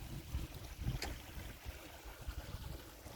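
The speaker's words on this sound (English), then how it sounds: "the water being gone down the plug hole" A garden pond drains through its plug hole with a soft, continuous rushing of water. Light wind buffets the microphone, and the sound holds steady and low-level for a few seconds without speech.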